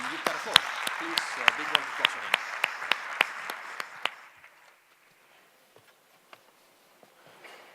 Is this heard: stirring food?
no